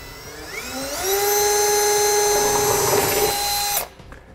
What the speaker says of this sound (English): I'm gonna come back with a 1/2 inch drill bit and finish drilling my final hole